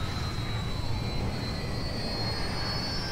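A plane in Grand Theft Auto V drones with a steady jet-like roar and a slowly shifting high whine, continuous and fairly loud, with no talking over it.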